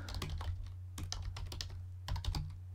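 Rapid, uneven key clatter from a portable USB keyboard being mashed hard, in three dense bursts of clicks over a steady low hum, close and fairly quiet with no voices.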